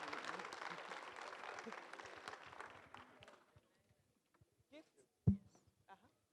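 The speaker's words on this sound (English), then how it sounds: "Please give them a round of applause" Crowd applause rings out for a few seconds, then fades away, leaving scattered claps and small noises in a quiet room.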